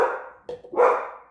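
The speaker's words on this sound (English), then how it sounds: "the UPS man has put my dogs into a frenzy" Dogs bark excitedly at a delivery driver, two loud bursts of barking close by with a brief yip between, heard on their own without talk.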